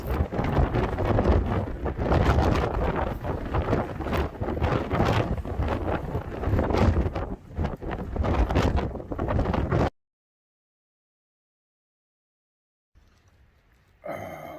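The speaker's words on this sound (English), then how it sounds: "The wind is powerful and coming from all sorts of directions." Strong gusting wind buffets the microphone on a desert stretch of the Arizona Trail, a loud broadband roar for about ten seconds, then near silence before a faint return and a short closing burst.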